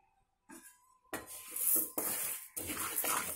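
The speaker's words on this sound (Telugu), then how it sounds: "ఇలా కలుపుతూ వేయించుకుంటే బాగా అంత పప్పు ఒకేలాగా వేగుతుంది" Moong dal dry-roasting in a kadai while a spatula stirs it, giving a few scraping, rustling strokes with light metallic clinks, close and moderately loud.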